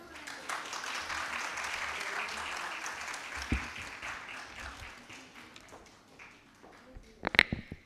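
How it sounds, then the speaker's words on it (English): Audience applause welcomes a foundation director onto the stage at an evening event, sustained dense clapping that fades out before a few louder close taps. "Please welcome them on stage with a huge round of applause"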